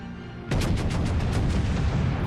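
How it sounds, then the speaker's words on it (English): Main battery guns of a warship in World of Warships fire in a rolling series of heavy booms, about eight distinct blasts in quick succession over a constant low rumble, loud and close, with no speech. "He's just hit me with his main battery guns."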